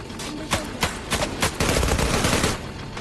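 Gunfire in the online shooter game Zula comes as a loud burst of sharp shots, then a denser run of rapid automatic fire. No one talks over it.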